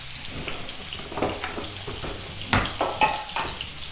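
Raw shrimp going into a hot pan for creamy garlic shrimp, a steady broadband sizzle with a few louder crackling bursts and spatters as pieces land and settle, close and fairly loud, no talking.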